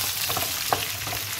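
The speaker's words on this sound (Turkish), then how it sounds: "Şimdi havuçlarımı da atacağım. İleri doğradığım. Onlarla da biraz şöyle kavuracağım." Chopped carrots and other vegetables sauté in a pan while being stirred, a steady close crackling sizzle with a light scrape from the spoon partway through.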